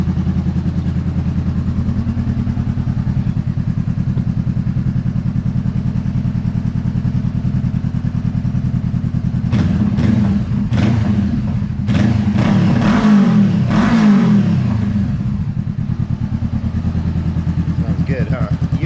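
A Honda CB500F motorcycle engine idles with a steady low rumble, then revs sharply several times in quick bursts before settling back to idle, loud and close.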